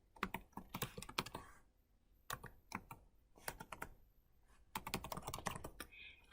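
Someone types a password on a computer keyboard: several bursts of quick, light key clicks separated by short pauses, fairly quiet and close, with no speech over them.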